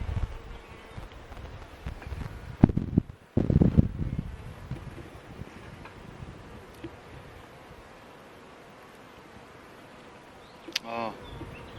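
A faint, low buzzing of many bees at an open hive hums throughout, with wind rumble and a couple of bursts of rustling handling noise near the start.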